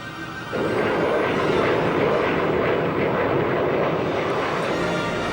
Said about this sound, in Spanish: el avión sin piloto V-1